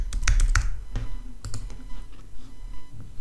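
Quick bursts of computer keyboard keystrokes as a product name is typed, a cluster of sharp clicks at the start followed by sparser, scattered taps, close and clear with no voice.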